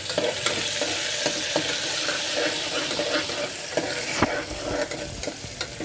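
Onion tossed into hot oil with asafoetida and curry leaves, frying with a bright continuous sizzle and repeated close spoon stirs and scrapes against the pan.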